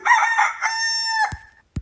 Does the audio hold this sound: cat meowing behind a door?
no